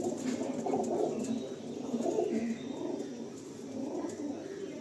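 A pair of black kalsira pigeons coo nearby in soft, rolling, repeated phrases that continue for several seconds over a faint background hiss.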